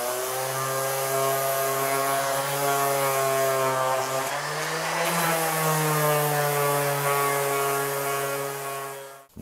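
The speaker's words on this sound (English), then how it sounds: "And just run this sander over this a couple of times." A sander on a curly walnut guitar control cavity cover gives a loud, close, steady motor whine with a strong hum that shifts pitch midway, then cuts off at the end.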